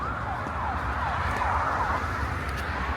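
Ambulance siren wailing as it passes along a Philadelphia street, loud and near over a dense traffic rumble for a few seconds.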